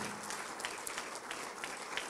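A church congregation claps for the Lord, a faint, even wash of applause that sounds distant and continues steadily throughout.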